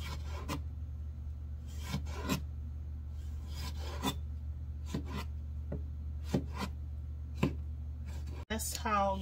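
Sharp knife chopping bell peppers on a cutting board for a baked chicken and veggies meal, a series of separate crisp cuts spaced a second or so apart over steady low kitchen hum, with a louder clatter near the end.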